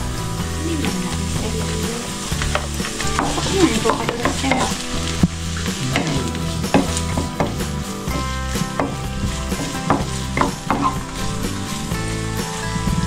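Carrots sizzle and fry in hot cooking oil in a pan for Korean japchae noodles, a steady loud crackling hiss with the scrape of a spatula stirring throughout, no speech.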